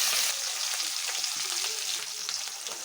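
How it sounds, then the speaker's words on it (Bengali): Hilsa fish frying in a pan of hot oil, a steady, dense sizzle with crackling spits throughout, close and fairly loud, with no voices. "এখন ইলিশ মাছগুলো আমি সুন্দর করে ভেজে নেব।"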